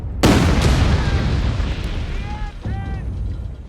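A Goliath demolition vehicle detonates in Company of Heroes 3: one loud, sudden explosion whose heavy rumble decays over about two seconds, followed by lingering battle noise and faint tonal game cues.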